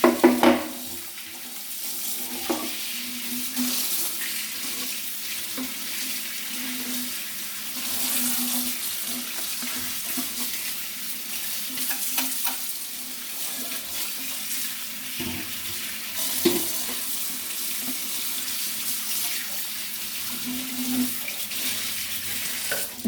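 Brass pooja items are rinsed under a running kitchen tap, a steady close hiss of flowing water with occasional splashes and clinks as the pieces are handled, continuing throughout.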